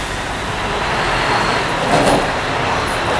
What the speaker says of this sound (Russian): Автобус с цепями.